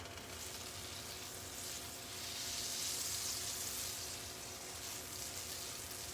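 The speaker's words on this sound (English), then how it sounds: "Let me get that butter on around the skillet there a little bit better." Butter sizzles steadily in a hot skillet while onions are prepared for Philly cheesesteaks, a continuous close frying hiss that swells slightly in the middle, with no talking over it.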